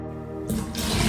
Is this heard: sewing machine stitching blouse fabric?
no